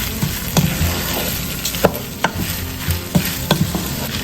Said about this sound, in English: I'm just making sure that I'm distributing the butter evenly. I'm kind of toasting the rice a little bit